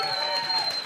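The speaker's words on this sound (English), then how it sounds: "Please don't be done clapping." Live audience clapping at an open music session as a performer takes the stage, a dense, steady wash of applause throughout a short stretch with a faint tonal ring above it.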